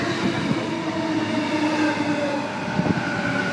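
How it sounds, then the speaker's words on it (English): A Sydney Trains Waratah electric train pulls into a platform at Cabramatta station, loud and close, with a steady rolling rumble, a rising motor whine and faint wheel squeal. "Waratah approaching platform 1."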